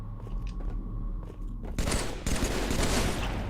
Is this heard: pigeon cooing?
no